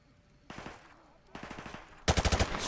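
Bursts of automatic gunfire from the video game Modern Warfare Remastered, three rapid volleys of shots, the last one loudest and closest, with no talk over them.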